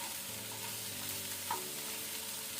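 Prawns and capsicum being stirred in a frying pan, a steady close sizzle with scraping stir strokes and one brief utensil clink, no voices.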